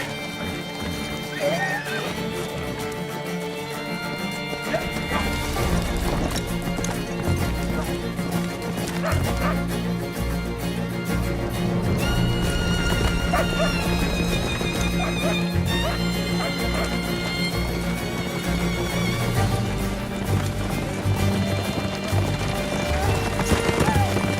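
Rhythmic hoof clip-clop under a steady music bed, with a dog barking and a horse whinnying at points; the hooves stay moderately loud throughout.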